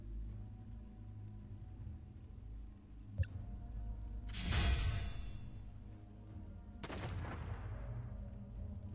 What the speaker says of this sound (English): I assume a shotgun would be pretty good